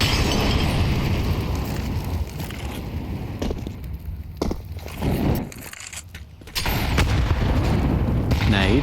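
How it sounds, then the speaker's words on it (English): A grenade blows up during a professional Counter-Strike match on the Inferno map, heard as heavy, booming broadband blasts that cut through dense gunfire and game noise and then briefly drop away. "Nade will blow open the smoke"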